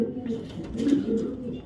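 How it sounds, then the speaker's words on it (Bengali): A racing pigeon held in the hand gives soft, low, close coos in a short rolling burst, with no other sounds around it. "আমি একটু দেখাচ্ছি কবুতরটা ধরে"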